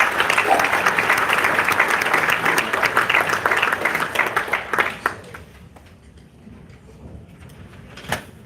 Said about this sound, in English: please give us a round of applause for Carol Deans, folks.